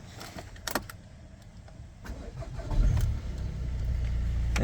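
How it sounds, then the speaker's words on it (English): A 2014 Volkswagen Golf GT 2.0 TDi diesel cranks and fires up close by after a few clicks, settling into a low, steady idle rumble that builds slightly in the last seconds. "And then if I start the car up"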